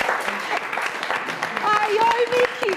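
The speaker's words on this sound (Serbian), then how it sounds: "Ovde aplauz može najjači da bude" Studio audience applause on a TV talk show, a mid-level patter of many hands clapping that runs the whole moment, with a voice speaking over it and a brief whoop-like vocal rising near the end.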